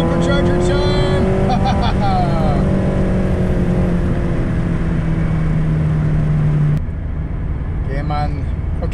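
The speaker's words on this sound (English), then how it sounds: "I'm in third gear at about 2500 RPM and I'm gonna put the throttle down right now." A car fitted with an electric supercharger accelerates hard in third gear, its loud engine drone climbing steadily from inside the cabin before easing off near the end, with someone talking over it.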